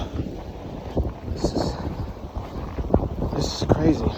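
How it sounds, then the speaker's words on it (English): Strong gusting wind buffets the microphone during a Buffalo blizzard, roaring in uneven bursts through a tunnel-like street, with brief breathy sounds from the person walking. "Ooh, this is like a wind tunnel right here."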